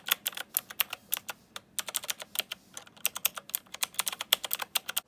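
Fingers type quickly on an extra-clicky RK Royal Kludge mechanical keyboard, producing sharp, crisp clacks in rapid irregular bursts with one brief pause, close and clear in a quiet room.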